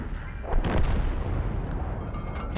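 An Object 263 tank destroyer fires its cannon at a Black Prince in the World of Tanks game, a deep booming blast with a rumbling tail, followed by a sharper crack near the end.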